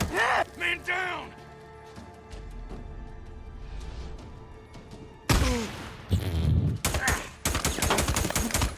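Shotgun blasts and other gunfire from Days Gone come as several loud, separated bursts during a firefight, with heavy thuds and crashes between quieter stretches where game voices and shouting are heard.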